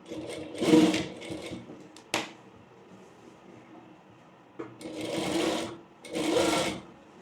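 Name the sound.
sewing machine stitching a layer frill frock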